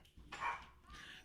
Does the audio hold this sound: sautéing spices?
no